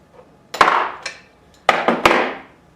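Metal ratchet tapped like a hammer on a stubborn, corroded part of a Suzuki GS550 during a cafe racer build, giving five sharp ringing metallic knocks in two quick clusters, close and fairly loud, each decaying briefly.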